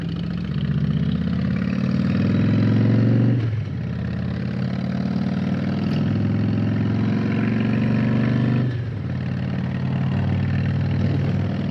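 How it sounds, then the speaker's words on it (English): A motorcycle engine roars while riding on a highway near Bailey, Colorado, pulling loud and steady through the gears with two dips as it shifts, the rising drone up close. "Gotta love the roar of that engine."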